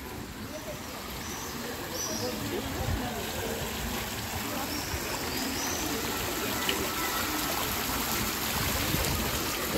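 Water trickles and flows continuously at a low level on Pushkinskaya Street in Yalta, Crimea, with faint birdsong and soft pigeon-like cooing in the background.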